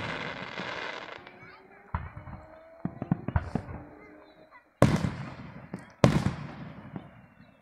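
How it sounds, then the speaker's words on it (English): Fourth of July fireworks crackle and pop at a distance, with scattered small bangs and two sharper, louder blasts near the end amid faint outdoor background. "probably heard fireworks behind me."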